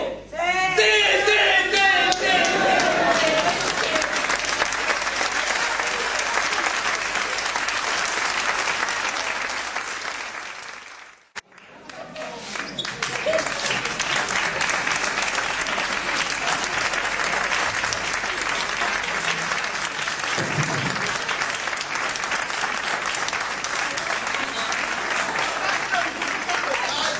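Loud, sustained audience applause with cheering and shouts from a large crowd, briefly dipping to near silence midway before surging back just as strongly and continuing.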